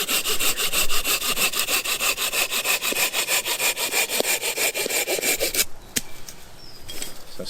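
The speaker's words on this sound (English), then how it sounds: "Really nice clean timber to use as well, hazelnut. And then we'll cut that, it's probably about 12 inches long I suppose." A hand saw cuts a length of hazelnut wood outdoors, fast regular back-and-forth rasping strokes close up for several seconds, then the sawing stops and a few knocks and handling sounds follow.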